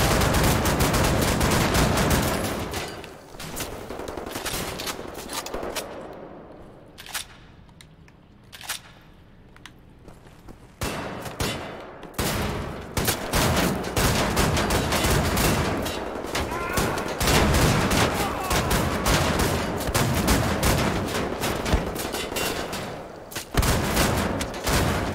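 Shotgun blasts and rapid gunfire in the shooter game Wolfenstein: The New Order, loud dense bursts of repeated shots with a brief quieter lull partway through, faint game sounds between volleys.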